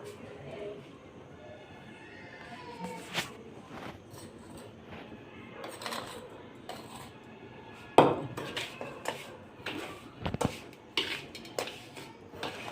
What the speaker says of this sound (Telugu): రవ్వను మనం మిక్సీ పట్టి పెట్టుకున్నాం కదా, దాంట్లోకి ఈ 3/4 కప్పు షుగర్ని కూడా కలిపేద్దాం.